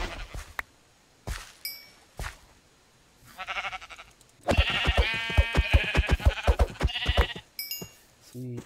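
Sheep bleat in the video game Minecraft, a few short cries spaced apart at first, then a dense run of overlapping bleats and game clicks in the middle, close and moderately loud with no talk.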